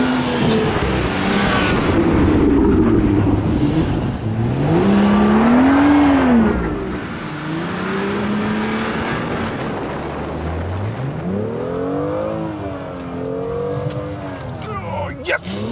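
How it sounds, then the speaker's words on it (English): A rear-wheel drive BMW M2 drifts across an empty snowy parking lot, its engine revving up and down in loud swooping surges as the car slides, with a voice talking over part of it. "find an empty parking lot and just drift the damn thing"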